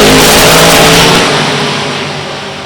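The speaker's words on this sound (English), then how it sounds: "brings up the RPM, starts spooling up that turbocharger" Drag racing car at an NHRA Division 3 event at Beech Bend Raceway Park, engine roaring loud and steady with turbocharger spool, then tapering as it pulls away.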